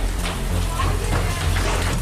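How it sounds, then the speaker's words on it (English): Torrential rainstorm turning to hail, heard as a loud, dense, steady wash of rain and pelting with a low rumbling undertone, close and continuous. "a torrential rainstorm has been building by the minute. But when the rain turns to hail"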